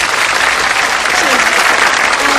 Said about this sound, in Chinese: 我们再次用掌声来欢迎一下